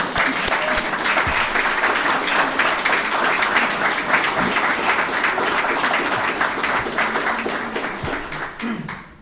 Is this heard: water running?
no